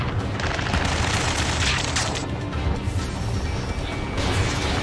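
Aircraft cannon fire in the video game Ace Combat 7, a dense, steady rattling barrage with crashing bursts that runs loud and unbroken throughout.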